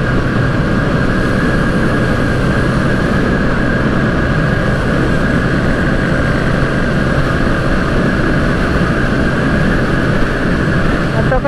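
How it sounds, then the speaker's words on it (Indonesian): A Honda Revo motorcycle engine drones steadily at high revs while chasing another rider, a loud, unbroken roar mixed with wind rush that holds for the whole stretch. "Kencang kali dia itu, nggak kuat nih motor saya ngejar nih."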